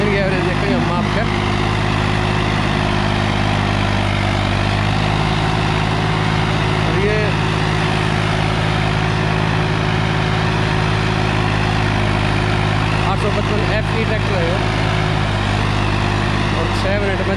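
A Swaraj 855 FE tractor engine drones loud and constant while pulling a 7-foot rotavator, a thick steady low hum that holds without any break.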